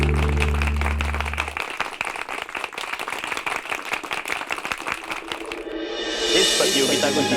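An audience claps loudly for Bablu at a competition, a dense burst of applause following a low musical tone, with music swelling back in as the clapping fades.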